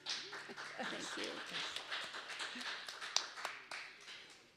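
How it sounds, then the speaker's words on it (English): Audience clapping at a senior singing performance, steady rapid applause mixed with voices and singing in an indoor room, with moderate level throughout and a few sharper claps. "I'm clapping for her."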